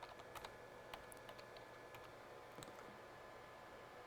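A computer keyboard clacks as field names are typed into a database form, fairly quiet, irregular keystrokes with short bursts and pauses, no voices.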